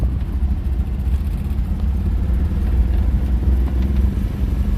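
An Isetta microcar's small engine drones steadily at moderate volume while pushed to keep up with scooters, a continuous low mechanical hum with faint road noise, no voices.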